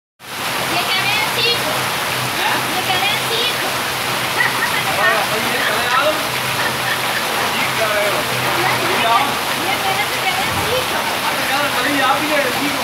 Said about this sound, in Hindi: कहीं आधे घंटे से अधिक झमाझम बरसात से